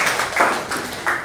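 In a high school classroom, a few close, evenly spaced hand claps ring out briefly and fairly softly.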